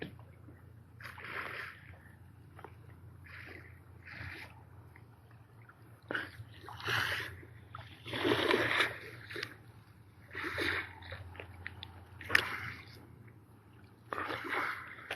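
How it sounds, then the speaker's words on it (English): On the water off Yarmouth, Isle of Wight, at night, a boat passes with intermittent splashing and sloshing bursts that rise and fall irregularly, fairly faint against a quiet low hum. "Oh, you can hear it's a boat."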